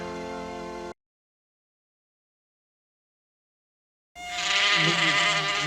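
Insects buzz loudly in a commercial for an Off citronella candle, a close whining drone that cuts out into silence for several seconds and then returns louder.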